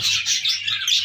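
Pet Hagoromo finches in an aviary give quick high chirps, a close rapid run of tweets lasting about a second.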